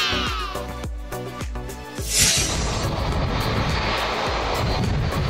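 Engines of an Airbus A330-300 wide-body jet roar loudly, a steady broadband rush with a sharp burst partway through, with no voices.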